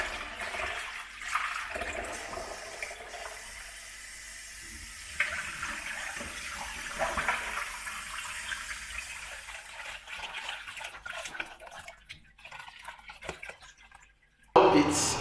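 Peeled beans for akara being rinsed, with running water splashing and sloshing in a bowl or sink at moderate distance, irregular pours and swirls over several seconds, ending in a brief louder burst.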